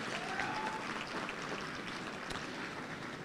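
A gala audience applauds in a steady, dense wash of clapping that carries evenly from start to finish, with no talk over it.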